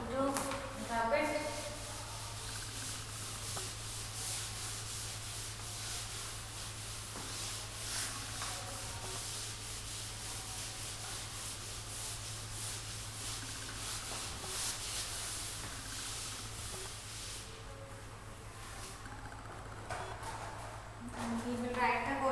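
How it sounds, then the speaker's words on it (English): A board is rubbed clean of writing during a class, giving a steady, continuous scrubbing texture that lasts throughout at moderate level, with a low constant hum beneath and a voice speaking briefly near the end. "I am going to rub it."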